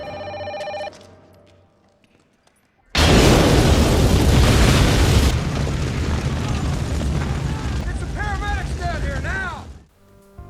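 Explosion in the 1998 film Rush Hour, a sudden loud boom after a quiet gap, followed by a long roaring blast and crackling debris that fades out, with ringing tones just before and shrill chirps near the end.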